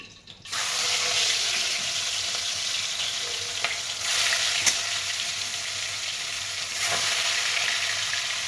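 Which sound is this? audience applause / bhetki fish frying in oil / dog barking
bhetki fish frying in oil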